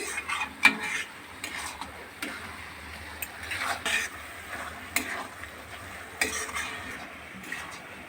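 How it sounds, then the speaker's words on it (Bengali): Palm fruit pulp bubbling in a pan as it boils, a soft simmering hiss broken by irregular clinks and scrapes of a utensil against the pan, nearby and fairly quiet. "তালের মাটা এখানে ফোটানো হচ্ছে লাল টকটক করছে পুরো তালের মাঠটা"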